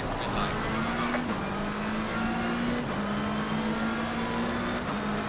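Race car pulling away with wheelspin at Spa in Assetto Corsa Competizione, a steady loud engine drone with gear changes, surrounded by dense track and car noise throughout.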